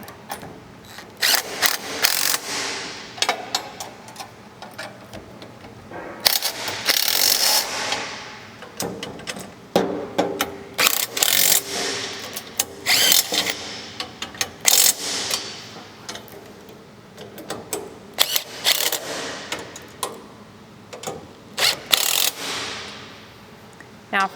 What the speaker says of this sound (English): we'll also need a 1/2 inch wrench, and we can snug these all the way up.